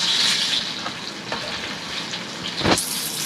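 Ridge gourd pieces sizzle in hot oil, a close, moderately loud crackling hiss with scattered pops and a brief stirring clatter near the end.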